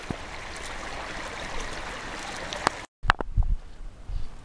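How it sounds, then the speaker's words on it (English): A small stream in Lapland's Urho Kekkonen National Park, swollen with water, rushes and gurgles steadily nearby with no voices, briefly cutting out before resuming. "Some of the small streams have a lot of water like this one"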